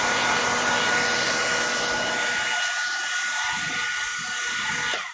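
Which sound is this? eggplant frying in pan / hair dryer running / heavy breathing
hair dryer running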